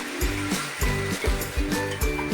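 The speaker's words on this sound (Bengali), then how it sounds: "এই জল ঢালা হলো" Water poured into a hot kadhai of fried, cooked-down egg curry masala with potatoes sets off a loud, steady sizzling hiss broken by a regular run of pulsing bursts.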